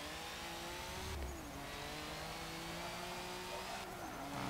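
A race car engine in the Forza Motorsport 7 racing game, a K1 Speed pack car, revs hard and high, with its pitch dropping at two gear changes before climbing again, loud and continuous.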